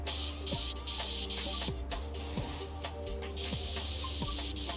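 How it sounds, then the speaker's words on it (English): A spray can hisses in bursts while a PC case gets painted in the game PC Building Simulator 2, broadband spray pulses repeating over steady background game sounds and soft thuds. "Hold left click to spray the paint and cover both sides, the front and the top."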